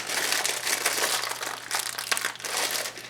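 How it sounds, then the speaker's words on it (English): Crinkly, stretchy plastic cake mix packaging crackles and rustles continuously up close, with bursts of louder crumpling and no voices. "this plastic is kind of stretchy and hard to open"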